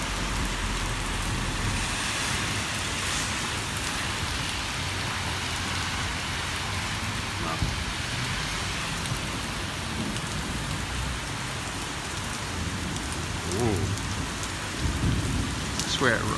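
Heavy rain pours steadily during a severe New York City thunderstorm, a dense constant hiss with faint low rumbles of thunder and occasional brief spatters and traffic noise underneath.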